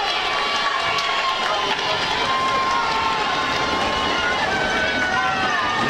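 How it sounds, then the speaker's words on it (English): A football crowd in both stands roars steadily on a big third down at a Rivercrest Greyhounds game, a dense, continuous wall of cheering and shouting that stays loud and unbroken throughout. "And you can hear both stands getting rowdy right here"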